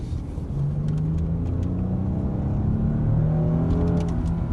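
A 3.3-litre V6 engine in a Genesis G80 revs hard under full throttle, its pitch climbing in a smooth, loud rising howl, close and continuous.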